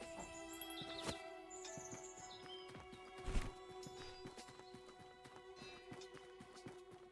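Repeated hoof clip-clops with a horse whinny partway through, over a steady tonal game backdrop with faint chirps.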